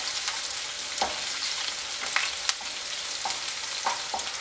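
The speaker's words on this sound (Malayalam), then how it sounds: "വെളുത്തുള്ളി ഇതെല്ലാം ചേർത്തൊന്ന് വഴറ്റി ഇതിൻ്റെ പച്ചമണം ഒന്ന് മാറുന്നവരെ ഒന്ന് വഴറ്റി കൊടുക്കണം" Ginger and garlic sautéing in a pan for a lady's finger mappas, a steady crackling sizzle up close with repeated light scraping strokes of a spoon.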